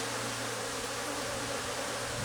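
Aggressive honeybees swarming at an open beehive, a steady, dense buzzing drone of many insects close by, continuous and even throughout, with no voices.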